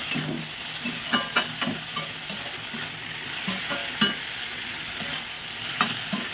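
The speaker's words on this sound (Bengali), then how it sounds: "ধনে পাতাটা দেওয়ার পর আমি আরেকটু নাড়াচাড়া করবো।" Spinach with sugar and chopped coriander leaves gets stirred in a hot pan, a continuous sizzle broken by scattered scraping knocks of the spoon against the pan.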